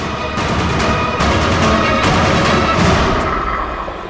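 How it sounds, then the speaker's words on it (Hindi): Gunfire in a Hindi TV crime drama scene, a burst of sharp cracks and booms over a dense, noisy dramatic background, loud and close with no talking. "गोली चला दी।"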